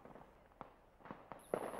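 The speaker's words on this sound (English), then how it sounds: "gunfire can be heard about 100 meters from the hotel we're staying in" Gunfire at night under curfew in Nepalganj, Nepal, about 100 meters away: a few sharp, distant cracks spaced apart, faint against a quiet background.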